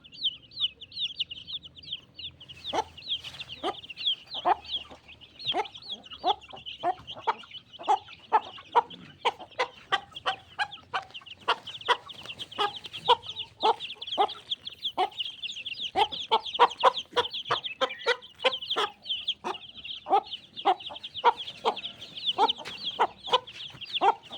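Chickens cluck continuously in a busy, overlapping chorus, many short sharp calls repeating rapidly and fairly close by, with no talking.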